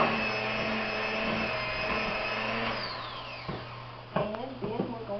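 Electric mixer whirring as it creams butter and sugar for a chess pie, a steady motor hum that drops in pitch and stops partway, followed by clinks and scraping.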